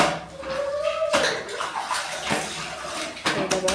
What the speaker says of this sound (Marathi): थोडंसं पाणी टाकून पाणी टाकून आपण आता त्याला थोडंसं क्लीन करून घेऊन